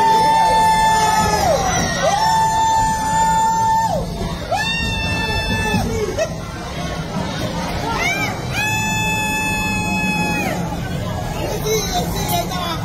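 A crowd shouts, screams and cheers loudly and continuously during 6ix9ine's arrest in the Dominican Republic, with sustained wavering tones sounding over the noise.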